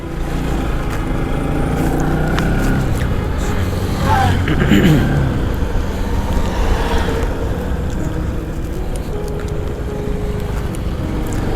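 A car moves through rainy, congested traffic on a rough road in Kathmandu, Nepal, with a steady rumbling engine and wet road hiss while someone talks over it.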